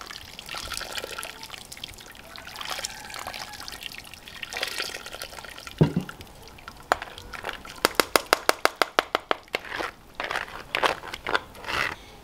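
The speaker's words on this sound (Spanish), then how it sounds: "Le voy a estar poniendo otra poquita de agua." More water trickles into chile for pozole in a kitchen, a continuous liquid wash broken by a quick run of rhythmic clicks and taps from a spoon or pot near the end.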